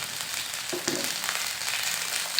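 Peanuts and chillies frying in a pan, a continuous hiss of sizzling oil with a couple of soft stirring knocks, close by and steady, with no voices.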